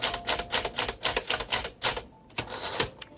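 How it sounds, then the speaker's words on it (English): A 1959 Smith-Corona Silent Super typewriter in Sapphire Grey is typed on in quick, evenly spaced keystrokes with crisp metallic clicks, then a short pause and a few more strikes, close and alone. "This is a good thinking typewriter."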